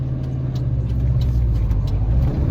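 An old Volkswagen bus cruising along with its engine rumbling, a deep, steady, close growl with light rattling ticks on top, continuous throughout.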